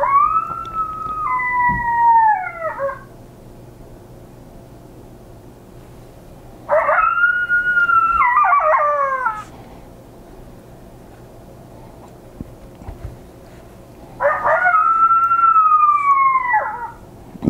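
A Lucky Duck Roughneck electronic predator call plays three loud animal calls in a basement, each a wavering, siren-like wail lasting a couple of seconds, separated by quiet gaps with faint background hum.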